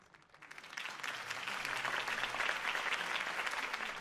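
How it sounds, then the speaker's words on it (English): A crowd in Batman: The Telltale Series breaks into sustained applause, the clapping swelling quickly and holding steady, sounding somewhat distant. "could have heard that applause"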